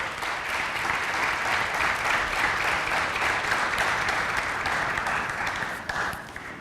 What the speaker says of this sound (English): Let's give one more round of applause for all of our top 10 students.